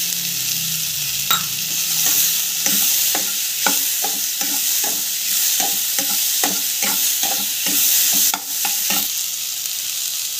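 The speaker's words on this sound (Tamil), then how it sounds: "ஸோ வறுத்து வச்சு மிளகாய் போட்டேன்" Chillies frying in hot oil with tomato in a pan, a continuous sizzle punctuated by a rapid series of sharp spatula scrapes and taps, close and fairly loud.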